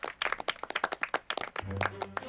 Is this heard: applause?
yes